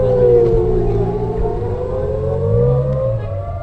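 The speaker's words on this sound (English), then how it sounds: "forcing the targets to interrupt their lives and hide in shelters when the alert sounds" A civil defense air raid siren wails loudly and continuously, its pitch slowly rising and falling as it carries a warning to take shelter, with no voices heard.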